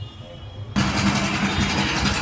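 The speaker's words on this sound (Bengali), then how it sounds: "গাড়িটা স্টার্ট করছি।" A Hero Passion Pro motorcycle starts abruptly after a quiet moment, then settles into a loud, steady running engine sound close by.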